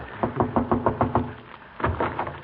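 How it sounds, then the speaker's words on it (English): A hand raps on a door in a 1940s radio comedy: a quick, steady run of about seven close knocks, a short pause, then a few more. "Shall I knock, Doctor?"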